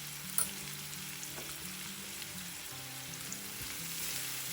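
Onion pieces fry in a pan for a Telugu bottle gourd and spinach curry, giving a quiet, steady sizzle with an occasional clink of a utensil against the pan and no talking.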